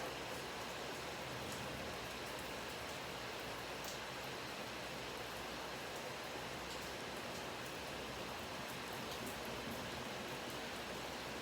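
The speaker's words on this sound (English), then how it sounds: "to that wonderful rainfall in the back" Steady rainfall outside, a dense and unbroken hiss of drops heard from indoors, even and fairly soft all the way through, with no talk.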